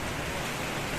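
Light rain falling at night around ten o'clock, a soft, even patter of drops forming a constant hiss with no voices.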